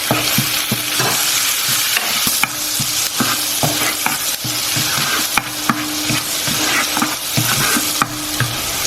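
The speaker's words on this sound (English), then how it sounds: "while that butter is melting, I'm going to add some chilies to your preference" Chilies frying in melting butter for garlic butter chicken, a constant loud sizzle punctuated by a regular rhythm of stirring knocks and scrapes against the pan, close and free of speech.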